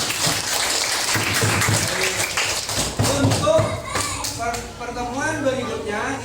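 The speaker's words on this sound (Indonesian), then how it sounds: "kita tepuk tangan untuk kita semua" Students in a classroom applaud in a dense, lively burst of hand clapping that carries on throughout, with voices chattering and calling out over it.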